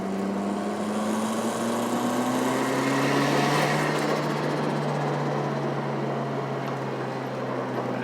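The engine of a boosted vehicle strains during a test pull: a steady engine drone under load with a slowly rising whine over constant road and wind noise, no talking.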